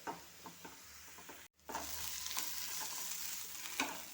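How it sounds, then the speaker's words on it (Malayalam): Onions sizzle gently while being stirred in a pan for a chutney, with soft scraping and crackling close by, a brief pause and then a steadier fry. The sound is faint and there is no talking. "ഉള്ളി ഒന്ന് വഴി നല്ലതുപോലെ മൂത്ത് വരണം അതുപോലെ അതുവരെ ഇങ്ങനെ ഇളക്കിക്കൊണ്ടിരിക്കാം"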